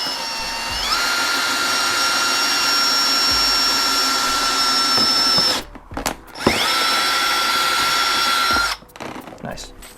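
A power drill whines at high speed while a front lip is fitted to a Nissan 350Z, running in long steady bursts that stop briefly and restart, loud and close.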